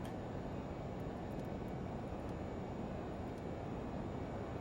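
A Lear 35 jet climbs out in a flight simulator game, giving a steady, fairly faint broadband engine roar with no change in level and no talking.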